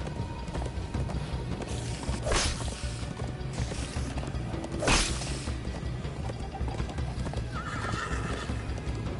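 A horse gallops in the Minecraft: Story Mode video game, with rapid hoofbeats under a busy game soundtrack, plus a couple of loud whinnies rising over the mix.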